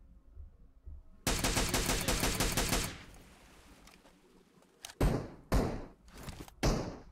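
Gunfire from bots in a battle royale video game: a loud, unbroken burst of rapid automatic shots lasting about two seconds, then quiet, followed by three separate heavy single bangs at intervals.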